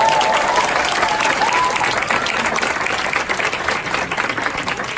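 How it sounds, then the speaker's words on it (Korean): Loud, dense applause fills a business presentation hall as an audience welcomes a speaker to the stage, steady clapping that tapers slightly toward the end, with a faint tone heard briefly early on. "블루다이먼드 권주범 사장님을 큰 박수로 모시겠습니다."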